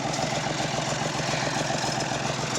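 A tractor engine, fitted with arms or a bucket, idles close by on a homestead during T-post setting, a steady low rumbling drone with a constant hum and no speech.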